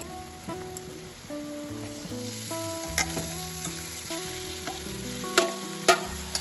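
Marinated chicken with turmeric and ground spices fries in oil in a pan with a loud sizzle, while a spoon stirs and knocks against the metal with scraping clatter. There is no talk.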